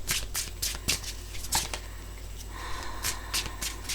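Glossy tarot cards are shuffled by hand up close, a run of quick crisp riffling bursts and soft slaps, light and papery, at a quiet level.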